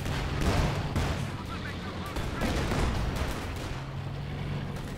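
Gunfire from the Company of Heroes 2 World War II strategy game, a 1v1 match with German and US forces, crackles in dense repeated bursts and volleys over a constant battlefield rumble, with no talk.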